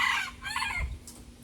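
A chicken crows and clucks close by in a short, clear burst, alone with no talking, against a faint background hum.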